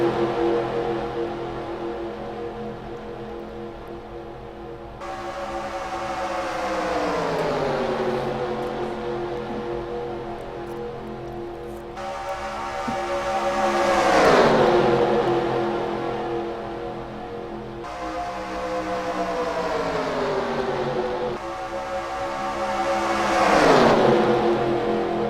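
Gen 6 race cars running two wide around the track at Talladega, engines roaring in repeated waves as packs approach and sweep past, pitch sliding down with each pass, loud and close.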